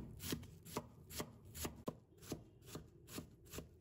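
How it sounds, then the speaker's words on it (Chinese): A knife chops onion on a board into fine strips and small dice, a quick regular run of about a dozen crisp close knocks with no talk. "然后再改刀切成细丝，最后切成小碎丁。"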